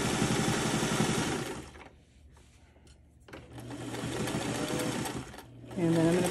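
A sewing machine stitches across a bag's pocket flap in fast, rhythmic runs, stopping briefly mid-clip and then resuming for a backstitch. A person speaks over parts of it.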